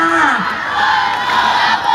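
Students at a school sports day cheer and shout together from the stands, a loud, dense crowd roar with a rising whoop at the start, sustained through a brief burst.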